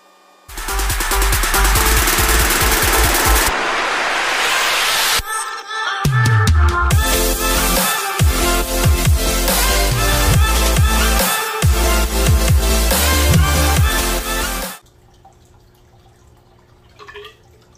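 Aquarium water siphoned through a tube splashes steadily into a bucket during a water change, a loud continuous pouring and trickling stream that stops abruptly near the end.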